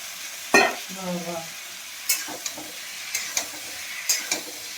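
Tender green beans fry in a pan, a steady close sizzle broken by a few sharp clatters of stirring, with no voices.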